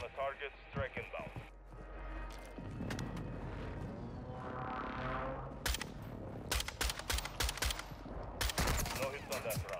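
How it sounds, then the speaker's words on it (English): A close air support strike in Warzone 2 lands as a volley of sharp, booming blasts and rapid gunfire bursts in the second half, loud and close, with voices talking throughout. "visual on the target, strike inbound."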